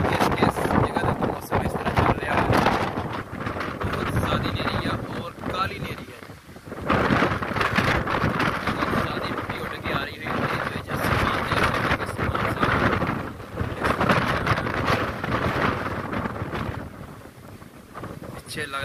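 Strong stormy wind roars steadily across a Pakistani landscape under dark gathering clouds, a dense broadband rush with gusts rising and falling throughout, while someone talks over it.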